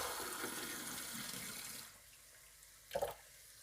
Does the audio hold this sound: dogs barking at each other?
no